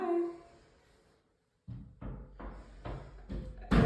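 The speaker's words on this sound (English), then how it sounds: "Are you knocking?" A child knocking at home, a short series of distinct raps with uneven spacing, moderately close, after a brief quiet stretch and ending on a louder knock.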